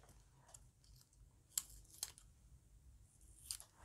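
Scissors trimming wool felt during appliqué stitching, a few sharp quiet snips spaced about half a second apart against a near-silent room.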